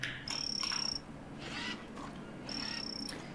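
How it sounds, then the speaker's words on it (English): A poison frog in the Green Hell jungle survival game gives two sustained high trilling calls, separated by a pause, against a faint insect and night ambience. "What is that? Poison frog?"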